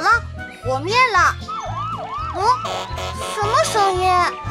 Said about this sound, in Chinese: 任何危险都不怕，无畏的消防车到底来了